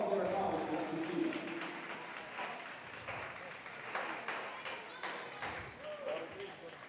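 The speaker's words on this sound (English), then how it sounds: "give them a great round of applause for all their accomplishments this season" Crowd applause fills a high school gymnasium during a Lafayette High School Ramblers basketball home game, steady broadband clapping that slowly fades over several seconds, with voices mixed in.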